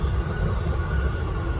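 A Keiyo Line train rumbles along the tracks between Maihama and Kasai-Rinkai Park with a low rolling roar and faint rattling from inside the car as it sways.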